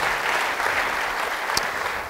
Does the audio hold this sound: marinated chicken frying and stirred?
no